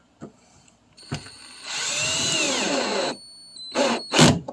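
A power drill drives self-tapping screws into a Triumph Spitfire 1500 interior, one sustained whirring run of about two seconds framed by short bursts before and after, close and loud with no talk.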